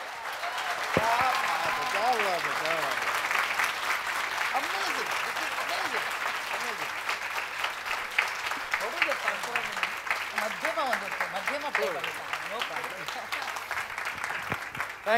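A concert audience gives a singer a long, sustained round of applause that holds steady from start to finish, with a voice speaking over the clapping.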